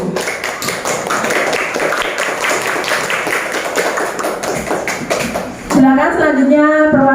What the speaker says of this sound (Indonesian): tepuk tangan untuk perwakilan kelompok 7